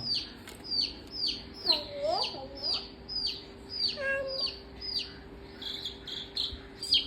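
Baby chicks peep close by in quick, high, repeated chirps at a steady rhythm, with a brief voice and a low hum underneath.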